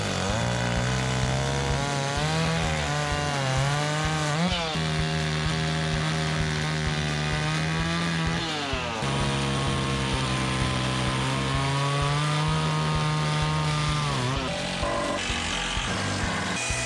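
A power saw cutting 2x12 lumber for a pig birthing room, a loud continuous motor whine that rises and dips in pitch as the blade bites and eases through the wood, cycling several times.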